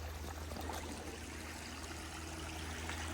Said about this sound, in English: a confluence of two little streams here